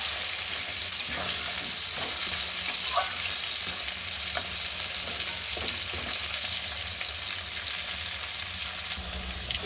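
Potatoes frying in a pan with turmeric make a continuous close sizzle, with occasional sharp stirring clicks and scrapes and no talk.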